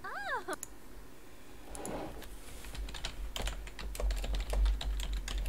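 Keys on a computer keyboard click in quick, irregular bursts, preceded by a short cat meow at the start.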